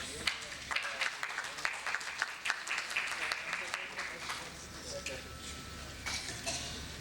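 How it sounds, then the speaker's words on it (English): Audience applause at a business awards ceremony, a steady wash of many hands clapping at moderate volume with scattered sharper claps, carrying on for several seconds. "ladies and gentlemen, a big round of applause"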